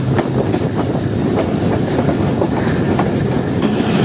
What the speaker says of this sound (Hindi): दोस्तों ट्रेन फाइनली इस वक्त पहुँच रही है